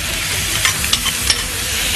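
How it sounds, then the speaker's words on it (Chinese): Pickled cabbage hits a hot wok with a continuous sizzle and hiss, broken by a few sharp clanks from a spatula stirring and tossing it. "酸菜下锅"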